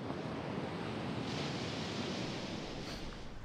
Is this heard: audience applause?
no